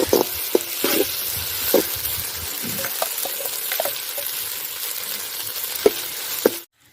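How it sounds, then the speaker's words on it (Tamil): Oil sizzles steadily in a pan as ginger-garlic paste fries for a village-style country chicken curry, with scattered clinks of a spoon stirring against the metal, then it stops abruptly. "இஞ்சி பூண்டு போட்டு நல்லா வதக்கிடுங்க நல்லா வதங்கட்டும்"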